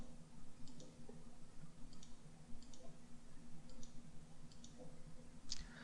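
Computer mouse buttons clicking during 3D modeling software work, a handful of faint, sharp clicks spaced irregularly over a steady low electrical hum, with no voices.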